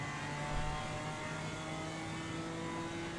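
A BMW GT4 race car engine in Assetto Corsa Competizione at Spa-Francorchamps drones steadily at high revs, a loud, sustained mechanical roar without any voices.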